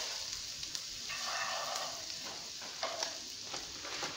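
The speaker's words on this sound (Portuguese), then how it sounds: "vai colocando devagar e mexendo para ela não empelotar" A spoon stirs farofa in a pan, producing soft scraping and light sizzling with occasional clinks, steady and close, with no talking.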